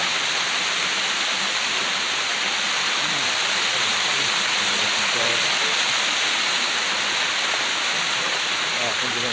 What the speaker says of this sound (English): This is the most beautiful waterfall on earth.